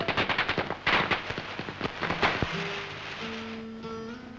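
Diwali firecrackers go off in a rapid string of sharp cracks, loud and close, then fade to a sparse pop or two.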